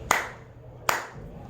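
Two clean, evenly spaced hand claps sound close and clear in a quiet room, part of a clapped rhythm for a children's rhythm-writing game.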